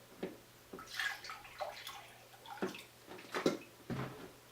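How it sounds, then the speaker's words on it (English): Water poured into a cheesy broccoli bake mixture in a home kitchen, a series of close splashing and dribbling bursts with short pauses between them. "Alright, and then water. Can't forget the water."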